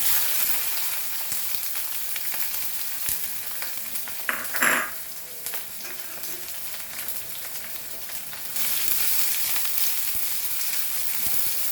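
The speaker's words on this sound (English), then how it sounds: "And now we will add our onion, chili and garlic." Onion, chili and garlic fry in a pan with a dense, continuous hissing sizzle, close and loud, broken midway by a brief scrape and a short surge, with no one talking.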